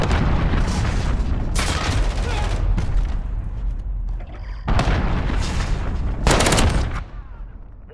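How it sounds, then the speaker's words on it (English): Enemy cruise missile strike in a Call of Duty Modern Warfare team deathmatch, loud booming blasts and rattling gunfire in repeated heavy bursts with short gaps between them, close and dominating. "Enemy cruise missile, take cover."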